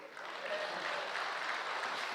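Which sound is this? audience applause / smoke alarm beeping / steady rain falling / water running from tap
audience applause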